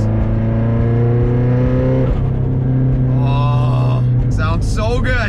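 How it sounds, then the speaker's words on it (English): A 500 hp Subaru STI with a misfire is driven at low RPM under load, its deep engine drone steady and close before rising turbo whistles and fluttering spool sounds appear toward the end. "See if we can load it up low RPM and get that turbo to make some nice little spoolie noises."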